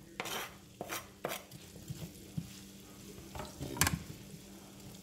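Onions cooking in slowly melting butter in a pan with a soft, low sizzle, broken by a few clinks and scrapes of a utensil against the pan.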